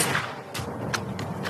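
Sniper rifle shots ring out in the action film Shooter, several sharp loud cracks spaced irregularly over a rumbling background, with no talk.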